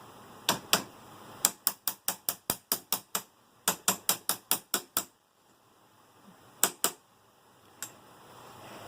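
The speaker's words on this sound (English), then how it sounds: "does using the hammer like that hurt the chair at all?" Sharp metallic hammer strikes on a wheelchair wheel in quick, even bursts of about a dozen blows each, separated by pauses, then a few last isolated hits.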